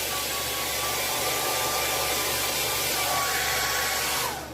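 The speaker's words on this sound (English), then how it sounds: "it seems like for right now my blow dryer is working better" A blow dryer runs steadily at close range while drying duck feathers on a mounted Gadwall, giving a continuous loud airy whoosh with a faint whine that tapers off near the end.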